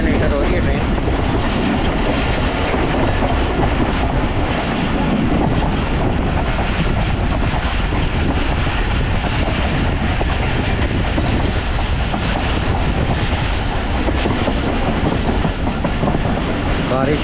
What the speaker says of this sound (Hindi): चकलाला रेलवे स्टेशन एंटर हो रही है ट्रेन।